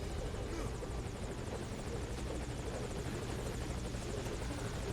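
Helicopter rotor thumping steadily and loudly in Metal Gear Solid V: Ground Zeroes, a dense continuous chopper drone with no pauses, filling the whole stretch.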